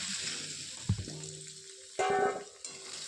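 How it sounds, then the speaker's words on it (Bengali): Quiet hiss of potatoes frying in oil in a wok, broken by a few clattering knocks and scraping sounds as the pieces are moved around. "প্রথমে আমি কড়াইতে কিছুটা তেল দিলাম তারপর আলুগুলো একটু ভালোভাবে ভেজে নিলাম"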